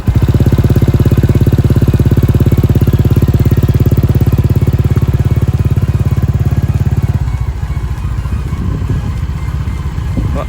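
A modified Honda Vario scooter engine runs loud and close with a steady, even throb for about seven seconds, then settles into a rougher, lower idle. No one speaks.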